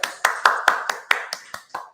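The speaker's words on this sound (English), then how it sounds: "round of applause, round of applause" Applause for a recent master's graduate: about nine sharp, evenly spaced claps in a steady rhythm, close and fairly loud, with a voice briefly under them.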